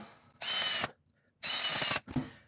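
Power drill driving screws into a sliding glass door: two sustained whirring bursts separated by a pause, then a shorter third burst, close by and fairly quiet.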